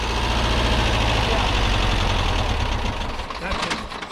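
A Porsche 914 engine, running on three cylinders after being started, idles with a loud, close, rough and lumpy rumble that steadies, then dips and wavers near the end.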